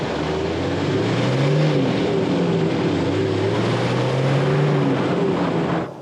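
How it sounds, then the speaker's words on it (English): A new radiator cooling fan on a 4x4 runs with a steady loud whooshing drone and engine hum, holding level for several seconds before dropping off at the end. "I can actually hear that new UFI fan."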